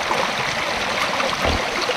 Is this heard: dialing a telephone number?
no